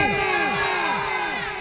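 A large rally crowd roars back a slogan in unison at a religious gathering, loud and sustained for under two seconds, with rising and falling chanted shouts repeating in a steady rhythm.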